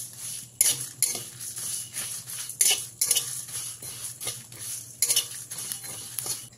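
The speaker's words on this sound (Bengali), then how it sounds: "এইভাবে অল্প কিছু সময় ভাজলেই মশলাটা ভালোভাবে ভাজা হয়ে যাবে।" Spices are dry-fried for a raw mango pickle while a metal spoon stirs and scrapes the pan in uneven bursts of clinks and scrapes, over a faint, quiet background.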